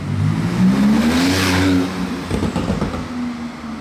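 A Mercedes C63 Black Series engine revs up with a rising whine, then drops back to a throaty idle with rumbling pulses, fairly close by, in Monaco.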